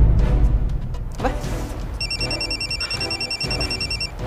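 A telephone rings with a repeating electronic trill under background music and room sound in an Indonesian TV drama.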